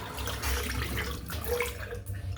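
Tap water runs steadily into a sink while a shaving brush is rinsed under it, first lukewarm then cold, a close, even splashing stream with faint drips and handling noise.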